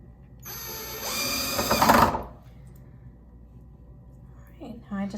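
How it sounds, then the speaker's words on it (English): Power drill driving a screw into a door hinge, one short whirring burst of about a second and a half that rises in pitch before stopping, followed by quiet handling noises and a brief voice. "now I'm going to get my drill. All right, I'm going to put one screw on the other side"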